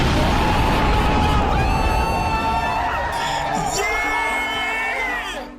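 A crowd reacts to a race with loud cheering, whoops and yells rising over one another in a dense, excited roar that fades slightly toward the end.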